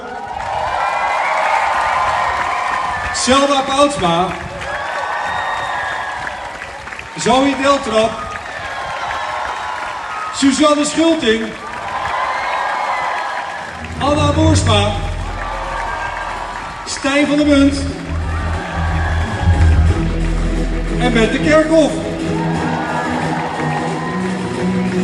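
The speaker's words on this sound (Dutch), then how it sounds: "Geef ze een extra groot applaus." Crowd applause and cheers for TeamNL athletes at a public homecoming celebration, swelling in waves between an announcer calling out names over a PA; music with a steady low beat joins partway through.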